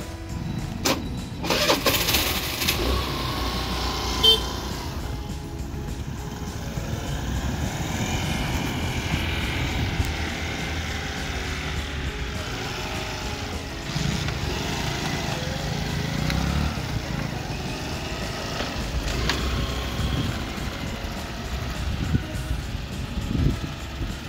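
A ferry boat's engine drones steadily as the vessel arrives along the coast between Ladghar and Ganpatipule, a continuous mid-distance rumble with a few bumps and clatters and no speech.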